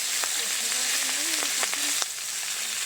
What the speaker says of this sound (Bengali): এই মাছগুলো একটু ফাটে, এর গায়ের চামড়াটা, তাই না? চটপট করে ফাটে।